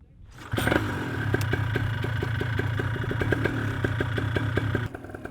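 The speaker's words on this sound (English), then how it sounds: "So we got this engine running now." A small two-stroke Parajet Maverick Moster 185+ paramotor engine starts and runs steadily with a loud, rapid clattering drone, then cuts off abruptly near the end.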